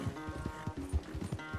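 Horse hooves in the video game Red Dead Redemption 2, a steady clip-clop of repeated thumps with a layer of game music behind it, moderately close.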